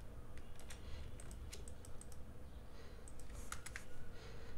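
Keys on a computer keyboard are tapped in short bursts of crisp clicks, a Control+Enter press among them, with quiet gaps between groups against a low background hum.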